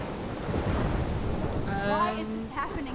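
Heavy rain and thunder from a thunderstorm in the video game Life is Strange: steady dense rainfall with low rumbling, and a voice speaking over the downpour near the end.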